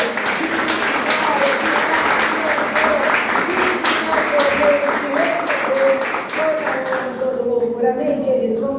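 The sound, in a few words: church congregation applauding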